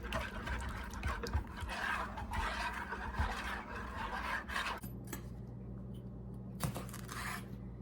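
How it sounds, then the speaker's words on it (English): A whisk stirring fondue sauce with ginger in a bowl, producing a wet, rasping scrape over a low steady hum, continuous for several seconds before quieting, with a few brief clinks. "I'm going to take a whisk and just mix this all up"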